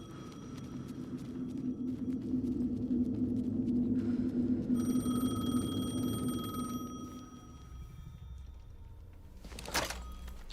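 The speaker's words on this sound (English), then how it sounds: "The phone again." An in-game telephone rings in Alan Wake 2, a steady electronic ringing over a low rumbling ambience that cuts off, followed by a brief click near the end; no one speaks.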